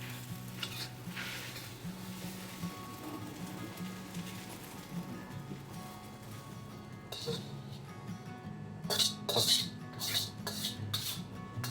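Pork ribs and flat rice noodles are tossed and stir-fried in a wok, with a steady sizzle under a low hum and bursts of scraping spatula strokes toward the end.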